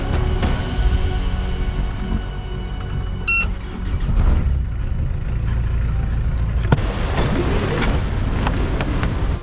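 A sailboat under sail on the North Sea, approaching the sound into Haugesund, with steady wind rush and water wash throughout and a brief sharp knock partway through; no voices.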